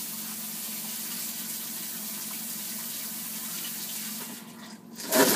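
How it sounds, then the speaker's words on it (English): Kitchen tap water runs steadily while hands are washed under it, a continuous close hiss that swells into louder splashing near the end. "Let me wash my hands."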